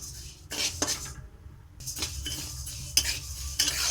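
Rice is stirred as it dry-roasts in a pan for rice laddoos, with a utensil scraping and rustling through the grains in short close strokes separated by brief quiet gaps.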